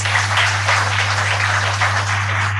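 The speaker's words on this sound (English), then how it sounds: "She deserves a big round of applause." Audience applause at a 75th foundation day ceremony, a steady dense wash of clapping lasting a few seconds over a constant low electrical hum, with no talking.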